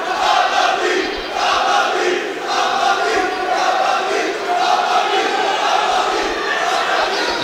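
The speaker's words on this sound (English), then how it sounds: "Crowd really behind one of these fighters" A crowd at a Shinobi War grappling match shouts and chants in a loud, rhythmic, repeated surge that rises and falls across the clip, with a voice mixed into the noise.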